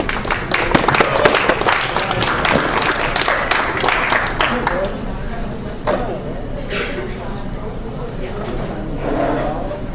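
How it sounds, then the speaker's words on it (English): Applause for a performer at a college open-mic night, a loud burst of scattered clapping that fades after about five seconds into room murmur and a few lingering claps, with talk starting underneath. "please give him another round of applause"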